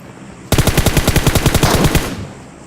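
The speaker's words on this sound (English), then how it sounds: "I'm probably not the only one that heard the gunshots" A single rapid burst of automatic gunfire in the video game PUBG Mobile, about fifteen shots in quick rhythm, loud and close, then cutting off into quiet.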